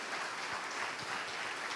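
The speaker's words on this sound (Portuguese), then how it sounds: "Pode aplaudir, se você quer aplaudir," A church congregation claps steadily and evenly throughout, a soft, distant wash of many hands with no voices on top.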